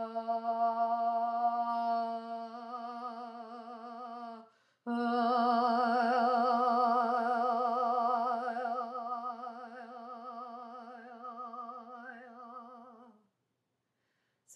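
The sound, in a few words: vocal toning sounds moving from body to emotion to healing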